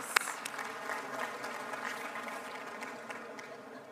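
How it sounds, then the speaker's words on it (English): Delegates at the COP28 World Climate Action Summit give a round of applause, a fairly quiet, even patter of many hands from a large hall, continuing steadily throughout. "So please give them a huge round of applause."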